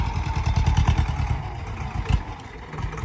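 Close, loud tractor engine chugging with a rapid, uneven knocking rhythm and rattling clatter, easing slightly toward the end.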